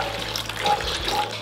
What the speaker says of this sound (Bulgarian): В голям съд изсипваме вода.